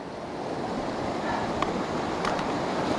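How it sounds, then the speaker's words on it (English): River rapids rush steadily in the distance, a broad, constant roar of water with some wind noise, with no talking. "We got rapids down there"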